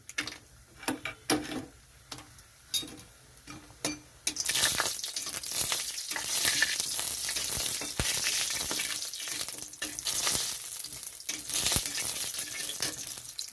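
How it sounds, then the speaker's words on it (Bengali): A few sharp clinks and taps, then a loud, steady sizzle of homemade lentil dumplings frying in hot oil that crackles on and on without letting up. "তেলটা গরম হয়ে গেছে তো আমি বড়িটা ভাজার জন্য দিয়ে দিচ্ছি"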